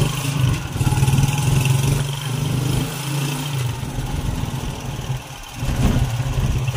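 A Honda TMX 155 motorcycle engine runs steadily on a test ride, a loud low drone holding close throughout with a brief dip in level near the end, no talking.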